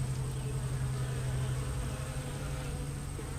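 Bees buzz steadily around the cypress knees at a soft-bottomed pond in summer, sipping water; a continuous close drone with a low hum runs through the whole stretch, no talking.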